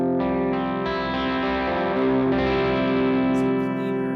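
An electric guitar played through an AC30-style amp model on a Helix unit rings out sustained, slightly driven chords with chorus-like shimmer and echo, steady and loud throughout with no talking.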